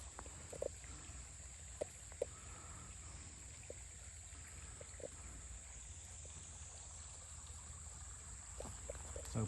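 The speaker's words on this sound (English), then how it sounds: "So peaceful, listen to that water run." A stream running in a cow pasture, a soft continuous trickle and burble heard close by, with a few faint clicks and knocks scattered over the steady flow.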